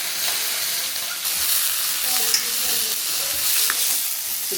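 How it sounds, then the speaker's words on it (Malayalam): Mustard seeds popping in hot oil make a continuous close sizzle scattered with small sharp pops and crackles, with no voices. "കടുക് പൊട്ടിച്ചിരിക്കുകയാണ്."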